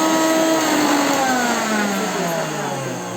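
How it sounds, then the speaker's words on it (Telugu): A kitchen mixer grinder churns cream with ice water for homemade ghee, its loud motor whine close by and steadily dropping in pitch as it winds down. "మేగడ్లు మిక్సీలోకి వేసి ఐస్ వాటర్ వేసాను"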